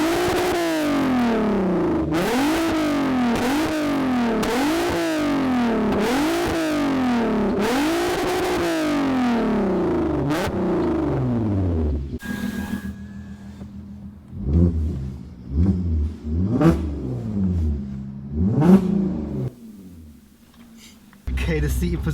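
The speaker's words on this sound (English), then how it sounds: "So I'm gonna let the owner rev it up a little bit, and then you can hear what it sounds like from the outside." Engine revs from a Stage 2 tuned VW Golf R32 MK5 with a loud aftermarket exhaust, heard from outside the car: repeated rising and falling revs for about twelve seconds, then quieter rumbling with people talking nearby.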